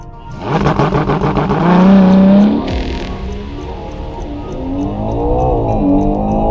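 Ferrari Purosangue SUV accelerating hard from 0 to 100, a loud revving engine sweeping upward through the gears with a brief shift break, heard from inside the cabin.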